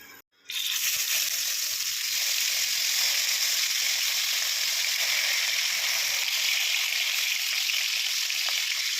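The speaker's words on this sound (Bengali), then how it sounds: "বাদ বাকি মাছগুলো একইভাবে সবকটা ভেজে নিচ্ছি।" Fish frying in oil in a pan gives a loud, close, continuous hissing sizzle that starts abruptly after a brief moment of quiet and holds steady and dense to the end.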